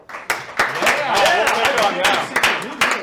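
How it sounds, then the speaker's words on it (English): Live improv comedy audience applauding, a short burst of clapping with crowd noise and a voice over it, steady for a few seconds before fading. "I'm curious, by applause, how many have not seen live improv comedy before?"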